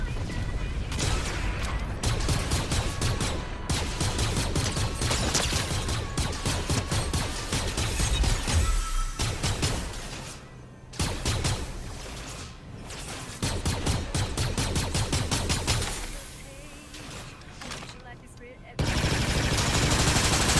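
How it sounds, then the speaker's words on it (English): Gunfire in the Fortnite video game comes in loud repeated bursts and rapid volleys with short pauses between them, while someone talks over the shooting. "somebody's shooting at me"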